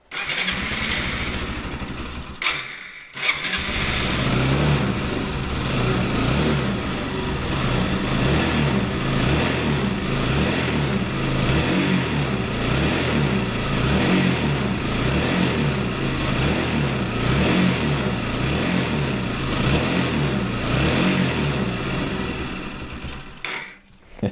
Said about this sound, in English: Let's try and give it a rev.